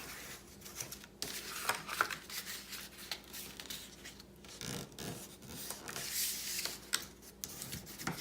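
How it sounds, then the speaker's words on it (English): Paper album pieces for an Echo Park Petticoats and Pinstripes album in a box are rubbed firmly with a burnishing tool, giving close, soft scratchy strokes in uneven bursts over about eight seconds, fairly quiet with no talk. "Give them all a good burnish."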